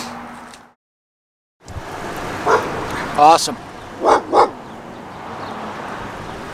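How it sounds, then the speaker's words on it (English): An angry dog standing atop a wall barks in several short, sharp bursts at moderate distance, following a brief silence, with a voice speaking a single word nearby. "I picked a spot with a super pissed off dog standing on top of the wall."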